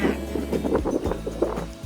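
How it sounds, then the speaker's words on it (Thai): Strong typhoon wind gusts around a house in Japan, buffeting the microphone in loud, uneven rushes that rise and fall throughout. "แถวบ้านเราไม่ค่อยมีอะไรค่ะนอกจากลมแรงมาก"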